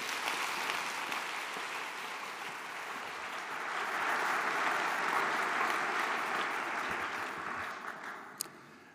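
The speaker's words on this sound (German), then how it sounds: "einen kleinen Applaus für Professor Dr." Audience applause at a climate lecture in a German parliamentary setting, a dense, steady wash of many hands that swells in the middle, then thins toward the end, with one sharp click near the close.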